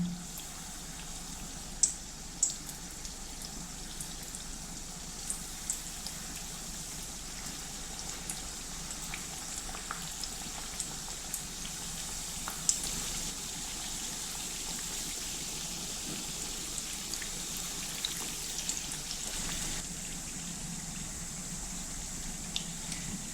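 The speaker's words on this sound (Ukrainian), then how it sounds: "добре розігріту олію викладаю пиріжки" Pirozhki filled with liver and potato frying in well-heated oil, a steady close crackling sizzle like light rain, with occasional small pops and taps, no voices over it.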